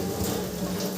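Water is poured into a cooking pan of cabbage and carrot spiced with cumin and chili powder, a steady close splashing rush that lasts the whole moment without pause.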